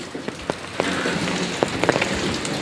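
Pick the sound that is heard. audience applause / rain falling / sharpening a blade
rain falling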